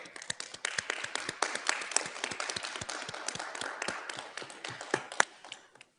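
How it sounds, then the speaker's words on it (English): Applause for interpreters and technicians at an online session of the Intangible Cultural Heritage Committee: scattered, uneven hand claps from a small group, close and crisp, running steadily for several seconds before tapering off. "Let us give them all a big round of applause"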